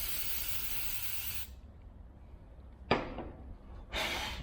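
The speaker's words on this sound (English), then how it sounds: "give them a good spray and brake clean again" Brake cleaner spray hisses in steady bursts onto bolts: one long spray, a pause, a short blast, then another spray starting up, close by.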